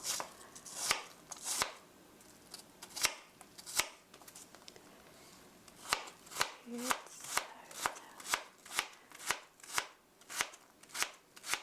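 Apples thinly sliced with a knife on a board for an apple cinnamon cake: a series of crisp, close chops, sparse at first, then falling into a quick, even rhythm.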